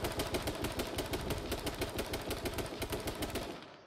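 Rapid automatic gunfire from the battle-royale video game H1Z1 rattles on nearly nonstop, a dense run of loud, evenly spaced shots with brief dips between bursts, trailing off at the very end.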